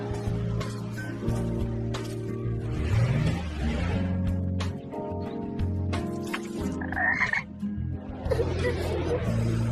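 Frog croaking in an animated Tamil children's episode, a repeated low croak heard alongside a layered cartoon soundtrack with music and effects, fairly loud and continuous.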